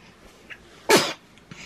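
A single sharp, loud sneeze bursts out near the microphone, breaking a quiet background.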